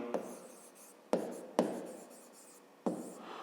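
A pen scratches on paper while a fifth-grade maths problem is written out by hand, in close, quiet strokes with four sharp taps where the pen lands, each followed by a fading scratch.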